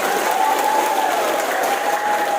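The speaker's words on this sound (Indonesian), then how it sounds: "Tepuk tangan dulu lah teman-teman." Crowd applause at a union meeting for new employees, a loud, dense, sustained wash of many people clapping together, steady throughout with a faint tonal whine beneath it.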